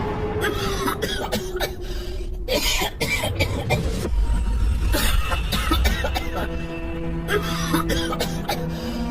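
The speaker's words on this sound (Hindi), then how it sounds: "तभी उसका दम घुटने लगता है और वो जोर जोर से खांसने लगता है।" Man coughing loudly and repeatedly as if choking, rough harsh bursts over a busy layer of background sound effects and music in a dramatized Hindi story scene.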